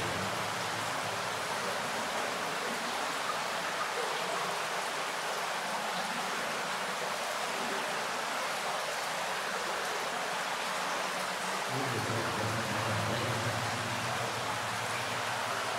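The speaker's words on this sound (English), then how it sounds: "It hits some of the rocks as it's coming down on the wall, and that makes that sound." Water trickling down a dark tunnel wall and splashing onto rocks, a steady hissing patter with no pauses, fairly faint and even, deepening slightly near the end, with no voices.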